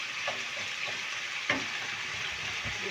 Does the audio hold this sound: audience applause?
no